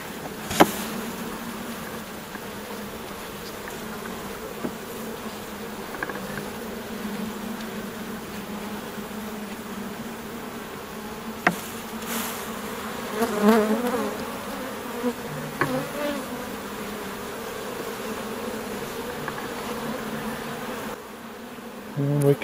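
Honey bees buzz steadily inside an opened beehive while a third hive box is being added, a continuous droning hum that swells slightly midway, with occasional soft clicks of frames being handled.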